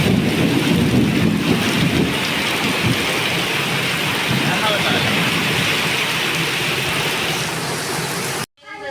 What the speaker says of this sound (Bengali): অনেক বৃষ্টি চালাইছে